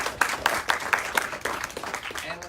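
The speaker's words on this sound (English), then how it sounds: "I think they all deserve a round of applause," Applause for panelists at a university panel event, a small audience clapping in a fairly rhythmic cluster of distinct claps that thins out toward the end.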